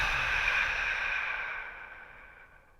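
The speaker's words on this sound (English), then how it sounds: "Take a deep awareness breath." A deep, slow exhale during guided meditation breathing, a long breathy whoosh close to the mic that gradually fades over about three seconds, with no talk.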